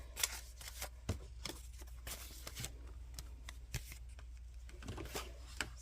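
Paper card stock being scored for a mini card in a double Z-fold card project: soft scratchy strokes and light clicks, faint and close, with no talking.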